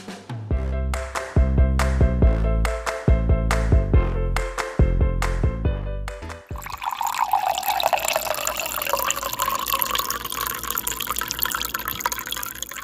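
Drinking water being poured into a container, a gurgling stream that rises in pitch as the vessel fills, following several seconds of clipped musical notes.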